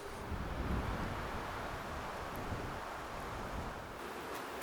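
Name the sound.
strong wind outdoors on a hike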